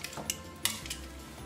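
Seasoned meat for pozole turned over in a pan, giving a few light metallic clinks and scrapes of a utensil against the cookware, with a soft background hiss.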